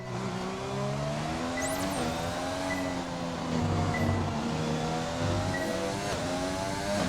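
A race car engine at full throttle in an F1 racing video game, a loud continuous high-revving whine that climbs through the gears with brief shifts, alone with no talk.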